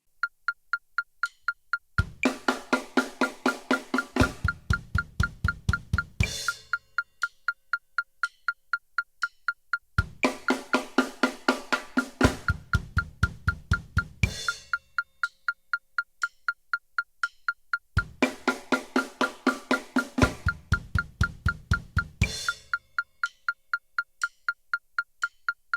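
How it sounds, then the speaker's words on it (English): A drum lick ending with a flam as the snare gives way to the bass drum, played three times in a row over a steady, sharp metronome click. "So when we play our last snare drum and our bass drum starts to play, we're going to flam that note."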